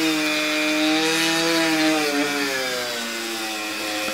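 A mini polishing disc machine buffs a vehicle's small corners, producing a continuous loud whine with a slowly shifting pitch, steady throughout with no talking.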